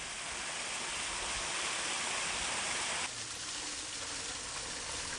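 A waterfall on rocky Wolchulsan mountain pours continuously, a dense broadband rush that drops slightly in intensity partway through, with no voices.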